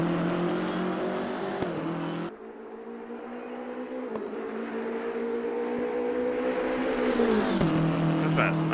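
BMW M6 GT3 race car engine in Assetto Corsa Competizione at Zandvoort, a steady loud droning roar with strong harmonic tone, briefly dropping in pitch at a gear change, then climbing again as the car accelerates, ending with a sharper shift.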